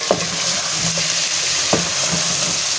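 Beef pieces sizzle steadily in a pan for bhindi gosht, a close, constant frying hiss punctuated by a few sharp clinks of a stirring spoon.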